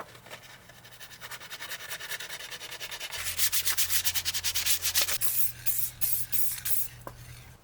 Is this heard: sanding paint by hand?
yes